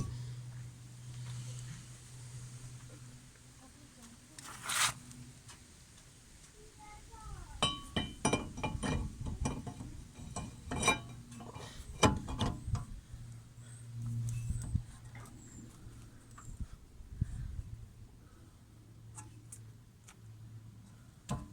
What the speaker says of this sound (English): now we can put the disc on